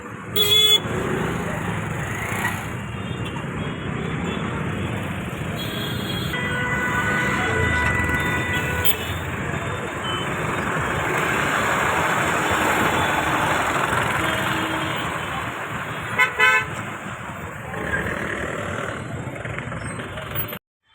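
Busy evening road traffic at an intersection rumbles steadily nearby, engines and passing vehicles blending together, with a few short honks rising above the din.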